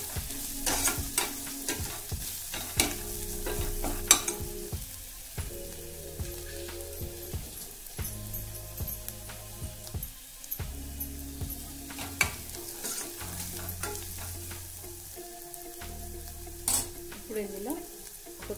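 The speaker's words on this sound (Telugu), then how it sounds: "ఇప్పుడు ఇందులో కొద్దిగా పసుపు, వేసి ఒకసారి అంతా బాగా కలుపుకోవాలి" Sprouts curry fries in a pan as turmeric is stirred in, with a continuous sizzle broken by frequent clinking and scraping spoon strokes against the metal, close and fairly loud.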